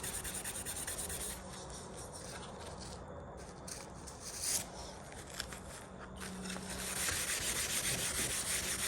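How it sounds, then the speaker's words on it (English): Someone rubs sticker residue off a wooden bonsai accent stand, making steady, close scrubbing strokes at a low level with an uneven rhythm. "Trying to get that sticker residue off."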